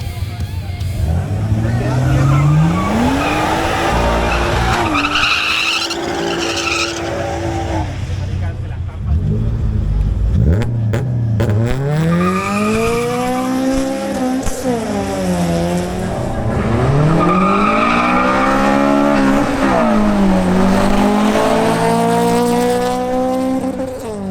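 A BMW M140i at a drag race rises through repeated revving gear pulls, loud and close with sweeping engine tones, while a voice speaks over part of it.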